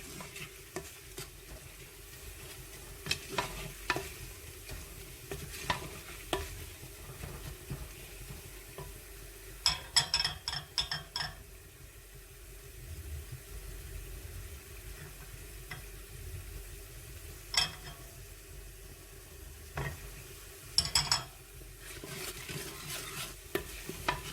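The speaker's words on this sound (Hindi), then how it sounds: "अब इन मसालों को भी हम अच्छी तरह भून लेंगे।" Spices roasting in a pan for green moong lentils with peel, a low steady sizzle under scattered scraping strokes of a spoon, quiet and close with no talking.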